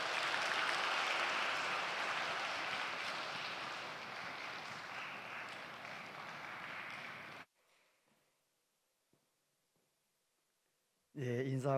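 A church congregation applauds during a Sunday service. The loud, full clapping lasts about seven seconds, fades into near silence, and then another loud burst of sound breaks in at the end.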